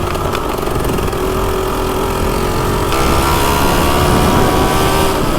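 A 36-year-old MTX125R six-speed motorcycle engine runs steadily at close range, a continuous buzzing drone that grows slightly louder partway through.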